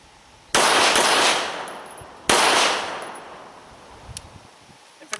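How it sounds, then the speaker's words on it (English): Two sharp gunshots from a Browning High-Power 9mm pistol at a shooting range. Each is loud and close with a long echoing tail, and the shots are spaced about two seconds apart. "the Browning's really a sweet gun to shoot"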